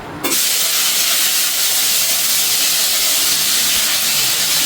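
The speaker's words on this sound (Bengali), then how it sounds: "এই ফোড়নটা আমি এখন তেলের মধ্যে দিয়ে দিচ্ছি।" Panch phoron spices and bay leaves hitting hot oil for a vegetable curry, bursting into a loud, steady steamy hiss that starts abruptly and holds strong throughout, with no voices over it.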